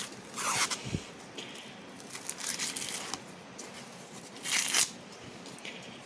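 Husk torn off an ear of corn by hand, several short close ripping and crackling bursts separated by quieter rustling.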